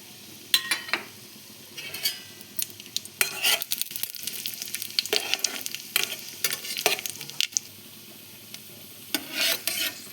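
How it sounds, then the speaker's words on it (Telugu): Almonds frying in ghee in a pan for carrot and beetroot halwa, with steady sizzling broken by repeated stirring scrapes and light clinks of a utensil against the pan, close and fairly loud, with no talking. "ప్యాన్ అయితే పెట్టుకుని దాంట్లో నెయ్యి వేసుకొని బాదం అయితే వేయించుకున్నాము."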